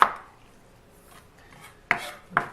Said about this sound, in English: So just chop this into little tiny pieces.